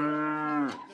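A single cow on a farm gives one loud, close moo. The call is a steady, sustained low note that breaks off abruptly after about a second, with no talking.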